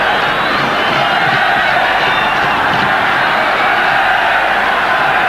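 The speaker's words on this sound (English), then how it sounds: "Now the crowd roaring Zambia on." A packed stadium crowd at the 1994 African Cup of Nations final between Nigeria and Zambia roars its support for Zambia, a loud, continuous wall of cheering and shouting with no pauses.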